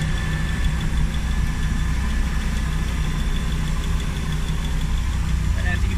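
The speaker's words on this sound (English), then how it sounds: "you can hear a slight tick. Which kind of sounds like it's coming from the right side valve cover" A TEC Travel Cruiser motorhome engine idles close by in a steady, even drone, with a slight lifter tick from the right side valve cover buried in the hum.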